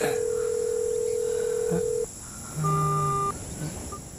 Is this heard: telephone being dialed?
yes